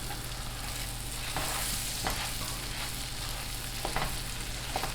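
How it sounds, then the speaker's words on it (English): Arborio rice sizzling steadily in a pan while being stirred for risotto, a constant close frying hiss with occasional soft scraping knocks from the spoon. "So notice that sizzle."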